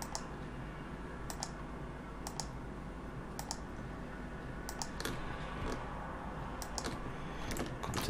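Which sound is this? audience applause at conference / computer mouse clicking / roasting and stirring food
computer mouse clicking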